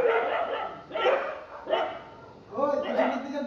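Dogs bark in several loud, close bursts spaced about a second apart, with voices talking around them.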